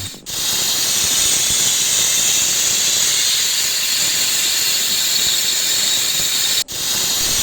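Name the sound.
pressure cooker hissing steam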